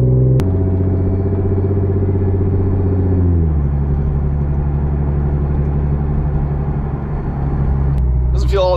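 An Infiniti Q50 on BC Racing coilovers drives along a normal road, with a steady low engine hum and road rumble that stays even throughout, close inside the cabin.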